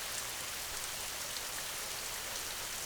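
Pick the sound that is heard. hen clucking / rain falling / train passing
rain falling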